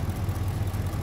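A Ford 5.4L 3V Triton engine idles with a ticking, tapping noise, a close, steady low hum with faint rhythmic pulses in a short burst.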